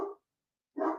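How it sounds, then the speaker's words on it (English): A pet dog barks indoors twice, with a short silent gap between the two muffled barks, both fairly quiet and slightly distant. "please excuse my dog. If you can hear him, he's losing his mind."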